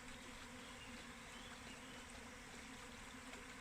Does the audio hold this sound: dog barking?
no